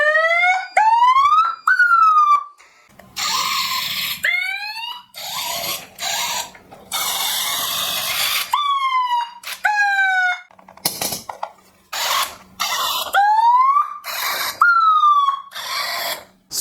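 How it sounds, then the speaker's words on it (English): A high-power police-style siren on a landmine-defeating robot wails in loud rising sweeps, alternating with harsh bursts of noise and electronic tones, close and dominant. "This is high power siren. Generally police use this siren"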